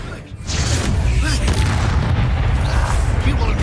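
The Confringo fire spell in Hogwarts Legacy, a video game, goes off in a sustained roaring blast that stays loud and dense after a brief quieter start.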